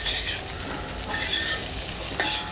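Potatoes sauté in a pan for a potato fry seasoned with coriander powder, chili powder and garam masala. A continuous close sizzle swells and fades with stirring, and a brief scrape is heard near the end.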